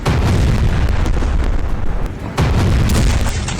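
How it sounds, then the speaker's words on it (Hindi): Loud, continuous explosive roar with heavy low rumble, briefly dipping then surging again as another blast hits; the second of three blasts near Al-Shifa Hospital in Gaza. "दूसरा धमाका"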